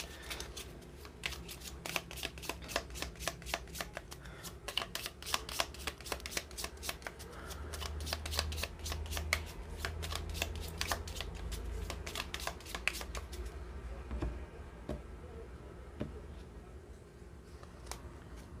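A tarot card deck is shuffled close by in quick, crisp riffling bursts for about thirteen seconds, then the handling turns quieter, with no talking.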